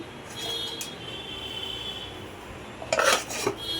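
A lid is set onto a cooking pot of fish curry with pumpkin, producing a brief metallic clatter and scrape near the end, after a stretch of soft kitchen background noise.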